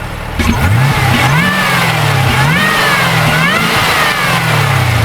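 A Chevrolet Camaro ZL1 engine revs up and down repeatedly, rising and falling pitch sweeps with a throaty exhaust note, loud and close.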